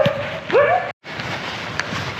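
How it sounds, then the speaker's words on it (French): A dog in a park by a pond gives a short whine and a yip up close, then a soft bark after a brief dropout, with quiet outdoor ambience around it. "Nous avons des chiens bavards aujourd'hui."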